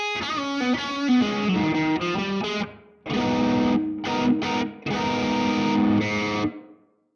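An Enya Nova Go Sonic guitar played through distortion rings out in loud chords and riffs, in three bursts separated by brief silences, alone with no voice.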